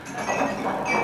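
Long silver spoons clink against drinking glasses at tables during a celebration-of-life gathering, a steady scatter of light metallic chinks across a busy room.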